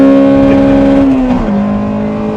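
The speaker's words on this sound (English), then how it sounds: "Let's go for VTEC." A Honda four-cylinder engine, a car from the EP3 Civic or DC5 Integra line, screams at high revs on a straight with a steady, loud, sustained pitch that dips briefly as a gear changes, then holds again.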